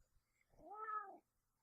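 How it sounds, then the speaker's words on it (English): A house cat lets out a single drawn-out meow indoors, quiet and fairly close, in an otherwise still room. "And you can hear my cats bugging me."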